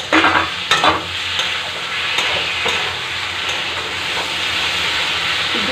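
Mustard, coconut and poppy seed paste with green chilli frying alongside teasel gourd, a steady loud sizzle with stirring scrapes and occasional clicks of a spatula against the pan.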